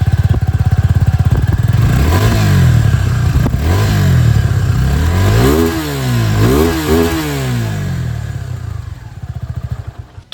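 A 250cc motorcycle engine starts and revs loudly up close, with several sharp rising and falling throttle blips over a rough idle before it settles into a pulsing, chugging idle at the end.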